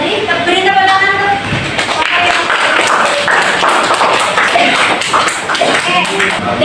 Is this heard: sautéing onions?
no